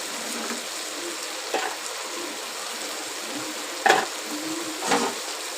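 Curry being sautéed in a pan before an egg goes in, a low continuous sizzle with a few brief scraping stirs, close and fairly quiet with no talking.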